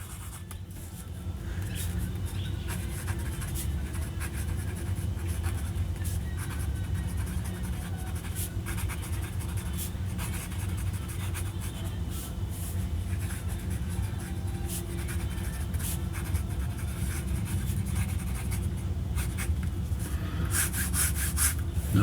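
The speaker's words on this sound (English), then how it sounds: "the nib is functional, it works, it writes, it's not scratchy" An M&G Happy Pen nib scratches and glides across paper in a continuous close, soft rubbing sound with steady strokes throughout.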